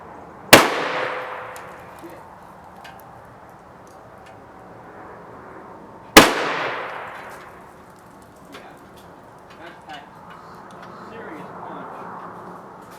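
Two loud, sharp gunshots from a homemade .458 SOCOM rifle ring out several seconds apart, each followed by a decaying echo, with someone talking between and after the shots.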